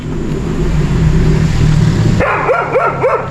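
A puppy near a garbage truck gives a few quick rhythmic barks after a loud idling engine rumble cuts off, close to the microphone.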